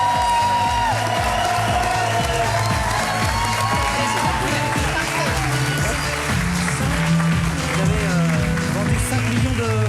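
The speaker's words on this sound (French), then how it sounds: "Merci d'applaudir cette émission malgré ce que vous venez de voir" A studio audience at a French television variety show applauds and cheers throughout, a dense steady wash of clapping with whoops, while voices and music carry on underneath.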